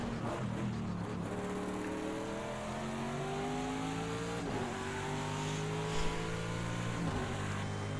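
A Chevrolet IMSA GTD Pro race car engine at Circuit of the Americas in Project Cars, revving up through the gears with repeated rising pitch sweeps and gear changes, loud and steady from the cockpit with no talking.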